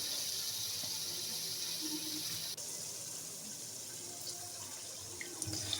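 Water from a glass poured into a pot of chicken korma as it cooks, giving a steady close splashing and filling wash that runs for several seconds with no talk over it.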